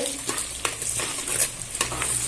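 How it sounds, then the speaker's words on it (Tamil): Onions sautéing in a pan for kara kuzhambu, stirred in repeated scraping strokes over a continuous bright sizzle, close and fairly loud, with no voices. "வெங்காயம் நல்லா வதங்கிக்கிட்டு இருக்கு."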